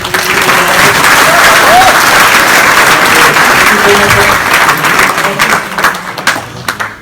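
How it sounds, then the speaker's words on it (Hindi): Loud, sustained applause fills a room at a training seminar, a thick wash of clapping from a large audience that holds steady before loosening slightly at the end. "एक बार चाहूंगा जोरदार तालियां हो जाए"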